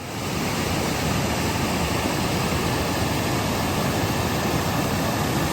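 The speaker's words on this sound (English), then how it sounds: "It is very unique to have a creek like this across our driveway." Flash-flooded creek water rushes across a driveway, a loud, steady roar of churning water filling the whole stretch with no pauses.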